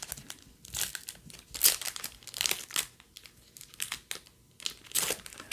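Thin foil wrapper of a 2020 Bowman retail baseball card pack being torn open and crumpled by hand, a run of close, crisp crinkling and ripping bursts with short pauses between them.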